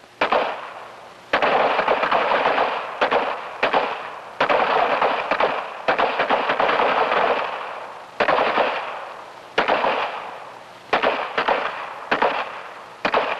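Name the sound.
gunfire on a police firing range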